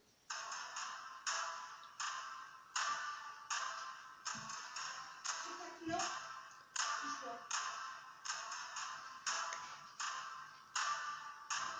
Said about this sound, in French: c'est le bois, c'est l'arche, enfin je crois que ça s'appelle l'archet du violon, qu'on tape contre le violon